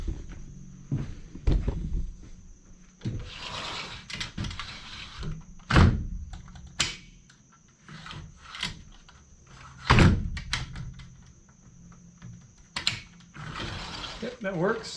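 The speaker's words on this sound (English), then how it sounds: "we're going to close and latch the screen first to make sure it works" A sliding screen door on a craftsman-style treehouse slides shut and latches with a few sharp knocks and clicks among scattered handling noises, with quiet background voices at moments.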